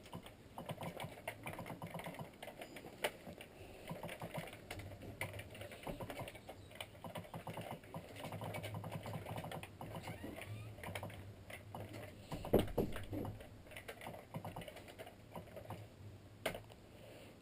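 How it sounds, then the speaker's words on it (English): Steady typing on an Atari 65XE computer keyboard, quick clicky keystrokes in an uneven rhythm over quiet room noise. "I kind of suck at typing, especially on this."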